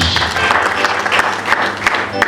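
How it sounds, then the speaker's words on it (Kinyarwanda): A church congregation at a prayer and deliverance service applauding together, a dense, loud burst of clapping lasting a couple of seconds with a few sharper claps standing out. "Tumukomere amashyi menshi"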